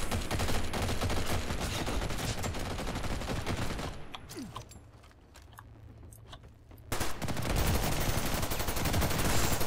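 Rapid automatic gunfire in the online shooter Ghost in the Shell: First Assault Online, loud sustained bursts that drop to a brief lull with a few scattered shots before the firing resumes at full intensity.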